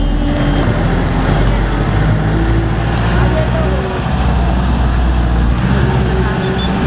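A jeepney rides through city traffic with a steady loud engine rumble and road roar, continuous throughout, under a faint hum of voices.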